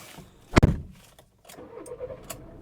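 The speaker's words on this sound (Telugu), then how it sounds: "సో ఫస్ట్ టైం అయితే మనం వెంటోని స్టార్ట్ చేద్దాం." A Volkswagen Vento with a newly replaced battery cranks briefly and fires up, a loud close burst followed by a pause and then the engine settling into a quieter idle with some clicks.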